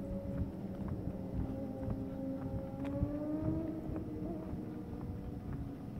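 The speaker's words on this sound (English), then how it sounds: "I hope you probably can hear the motorcycles." Engine drone of motorcycles passing on a distant road, the pitch rising and sliding as they go by, steady and continuous.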